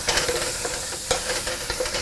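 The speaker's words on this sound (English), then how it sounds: "give these a little stir here, just to sweat them out a bit" Vegetables and garlic sweat in a pan on medium-high heat, sizzling steadily up close while a utensil stirs them with soft scraping strokes.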